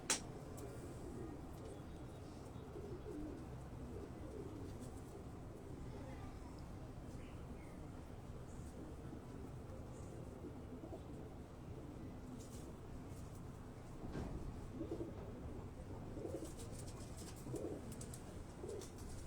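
Pigeons coo softly in their separate compartments of a rooftop coop, low, murmuring calls layered over faint background noise throughout. Someone talks over them.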